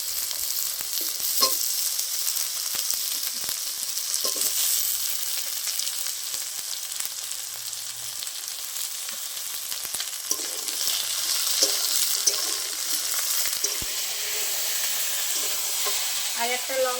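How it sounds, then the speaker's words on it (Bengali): Fried onions, potatoes and eggplant sizzle steadily in a pan, a continuous bright hiss with occasional stirring scrapes, with no one talking. "আর কেটে রাখা আলু আর বেগুন দিয়ে দেবো।"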